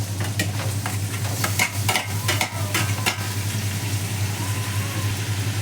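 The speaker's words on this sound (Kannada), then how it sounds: "ಈಗ ನಾವು ಟೊಮೆಟೊ ಹಾಕ್ಕೊಳ್ಳೋಣ." Tomatoes go into a pan of frying onion, ginger and garlic paste for vangibath, giving a steady sizzle with a cluster of clattering scrapes from stirring, all over a constant low hum.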